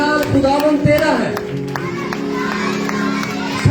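Children at a church summer camp clap and cheer together, with excited shouting voices and scattered claps filling a lively, close-sounding room for a few seconds.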